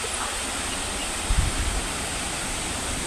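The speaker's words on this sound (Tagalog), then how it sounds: "Medyo malakas ang hangin dito mga katropa sa aming um, bundok." Steady roaring wind noise on a mountain farm fills the clip, broad and constant, with a brief low gust buffeting the microphone partway through.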